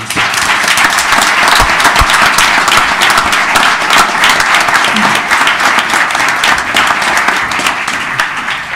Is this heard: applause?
yes